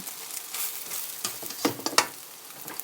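Eggs sizzle and crackle steadily frying in a hot pan, with scattered pops and a few scraping stirs close by.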